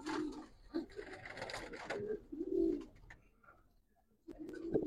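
Hericol (chillighora) pigeons coo in repeated low, throaty bursts with short pauses between calls, close by and alone without speech.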